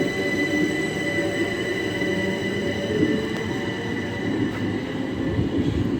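Train passing through Sandling station on the line toward London Charing Cross, a loud steady rumble of wheels and cars with a faint high squeal throughout, continuous and close.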